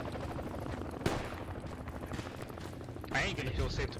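Gunfire in the military shooter Project Reality crackles in scattered bursts, with a sharp near crack early and rounds snapping past, plus a louder flurry near the end, under a continuous gritty battlefield background.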